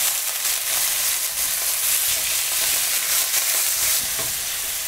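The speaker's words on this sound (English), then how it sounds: "So as you cook this meat further, it will continue to break apart." Ground meat for spaghetti bolognese sizzles and fries in a hot pan, a loud, continuous crackling hiss with stirring scrapes mixed in, close up and without talking.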